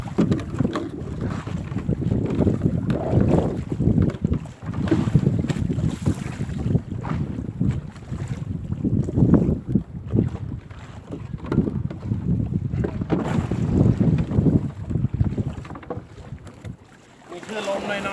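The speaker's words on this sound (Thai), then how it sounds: "มีคลื่นลมหน่อยๆครับ" Wind and waves buffet a small crab fishing boat at sea, producing a continuous loud rush with surging swells and microphone wind rumble that rises and falls throughout.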